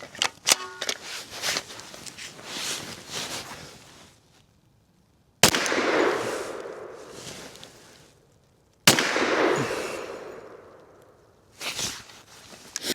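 10mm pistol shots fired outdoors, two sharp loud cracks a few seconds apart, each trailing a short echoing decay, with some shuffling and handling noise before them.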